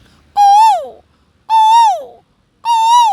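A man mimics a koel's call, three clear rising-then-falling whistled notes with pauses between them, loud and close.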